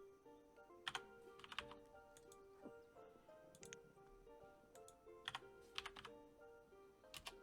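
Typing on a computer keyboard, heard close, with irregular bursts of key clicks and a few louder taps over quiet background music.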